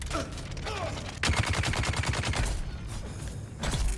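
In the video game Dune: Awakening, gunfire strikes an enemy as dense, rapid bursts of shots, loud and close, pausing briefly before another volley.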